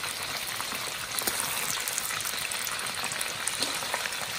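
Chicken fries in hot oil until crispy, giving a steady, close sizzle dotted with fine crackles and pops, with no talking.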